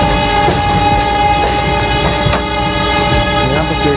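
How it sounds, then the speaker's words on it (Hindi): A passenger train pulling into Belgaum (Belagavi) railway station in rain, loud and close, with a sustained horn tone over steady rumbling and rhythmic clacking of wheels on rail joints. "पर हमारी ट्रेन बेलगावी यानी बेलगाम रेलवे स्टेशन में पहुँच चुकी है।"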